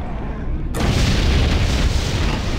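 A Big Bang explosion spell goes off in the video game Septerra Core, a sudden loud, broad roaring boom that erupts after a brief quiet moment and rumbles on densely.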